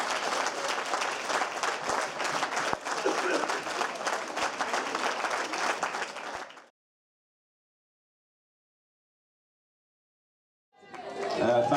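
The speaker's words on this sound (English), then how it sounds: "So can we give them all a round of applause?" An audience at a football club's Player of the Year awards night gives the players a dense, loud round of applause. It lasts about six seconds and stops abruptly, then after a silent gap a second burst of clapping begins.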